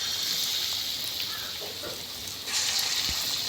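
Banana fritters made from ripe bananas in batter sizzle steadily in hot oil in a home kitchen, a continuous close hiss that swells louder near the end.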